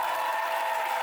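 Audience applause on a French blind-date show, a steady, dense wash of clapping that holds at an even level throughout with no break.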